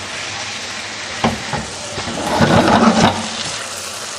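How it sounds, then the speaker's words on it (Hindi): Spice masala for arbi gosht frying in a pan, a steady soft sizzle with a few spoon stirs and scrapes adding brief louder bursts midway, close and without talk. "मसाला हमारा साइड पे भुन रहा है।"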